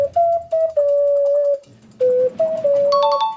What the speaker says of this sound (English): Ocarina.